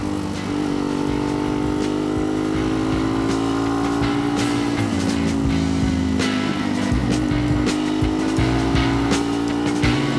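A dirt bike on a muddy trail revs hard, its engine droning and climbing in pitch as it accelerates, loud and close throughout, with rattles and knocks from the ride.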